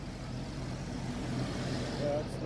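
A parked tour bus engine idles as a steady low rumble close by, with people talking over it.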